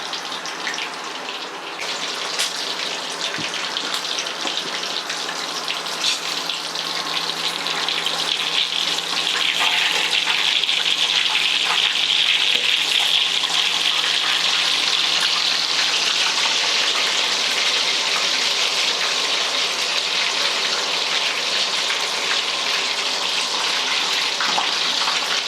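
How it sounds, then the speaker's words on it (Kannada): Fish kebab masala frying in a pan gives off a continuous, close hiss like running water, swelling slightly in the middle and holding steady without pause. No one talks over it. "ಇವಾಗ ಇದು ಫ್ರೈ ಆಗೋವರೆಗೂ ವೆಯ್ಟ್ ಮಾಡೋಣ"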